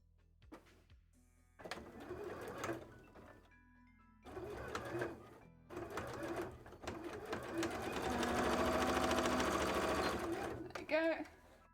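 A sewing machine stitches cosplay tail pieces together in several bursts of fast mechanical whirring, the longest and loudest run near the end, close by, with people talking between the runs.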